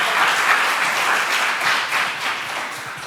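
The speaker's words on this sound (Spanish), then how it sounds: "Un aplauso al Señor." Church congregation breaks into sustained applause, a dense, steady wash of many hands clapping at close range for a few seconds, with no talking over it.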